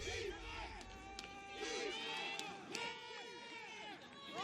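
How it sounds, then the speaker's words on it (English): A crowd roars in celebration, with loud overlapping shouts and cheers that swell and hold throughout, dense and close. "The crowd roared."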